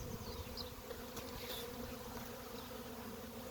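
Honey bees buzz steadily around a small, slow-growing colony, heard from within their flight path as a soft, continuous hum with no voices.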